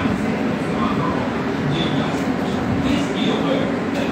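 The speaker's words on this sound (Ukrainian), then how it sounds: "Вот это трамвай." A tram passing through a Kyiv street near the Old Station makes a steady, loud rolling rumble with faint metallic squeals, holding constant throughout.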